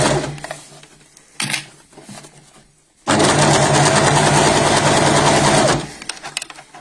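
An overlocker sews around a fabric corner in short bursts: a brief whir, then a longer loud, steady mechanical chatter of about three seconds, with quieter handling noises between.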